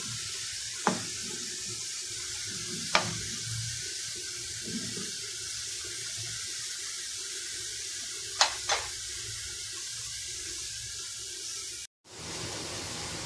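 Chopped onion, tomato and green chilli sauté in a pan with a steady, close hissing sizzle that runs throughout, broken by a few brief clacks of stirring and a short cut near the end.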